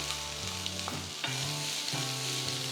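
Chopped onion sautéing in a pan with ginger and garlic, a steady close sizzle with scraping stirring strokes across the whole stretch, no voices.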